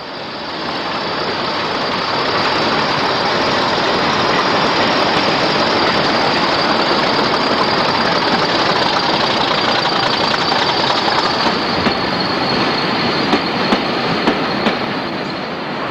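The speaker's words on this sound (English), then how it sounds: "a southbound train runs through Durham" A southbound British Rail Class 40 diesel locomotive hauling a train through Durham in 1975, a loud, continuous roar of engine and rolling wheels that swells in and holds steady with faint rail clatter.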